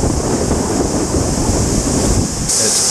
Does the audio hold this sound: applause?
no